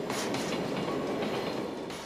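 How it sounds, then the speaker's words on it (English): A Belgian Railways Class 11 electric locomotive hauls a rake of Dutch coaches on an hourly intercity service at Brussels North, giving a loud, steady rumble with rhythmic clickety-clack of wheels over rail joints. "This Belgian Railways Class 11 is heading a rake of Dutch coaches on the hourly intercity service from"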